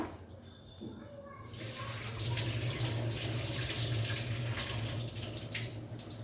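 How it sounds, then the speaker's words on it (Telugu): Cooking water is poured off a pot of rice for pulao, a quiet opening giving way to a strong, steady gush of running water that continues to the end. "ఇప్పుడు ఇవి నీళ్ళు వంపేస్తాను"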